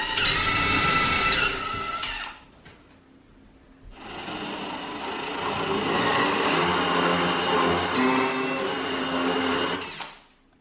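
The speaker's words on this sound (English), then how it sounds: "I'm adding a relief hole so the sawdust can escape that circular hole saw cut" A power drill with a hole saw cuts into a door for a doorknob, whining steadily for a couple of seconds, pausing briefly, then running again in a longer, loud, grinding burst before stopping.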